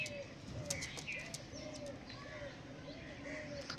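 Soft, repeated cooing of pigeons in a rhythmic series, with faint chirps and light background noise around them.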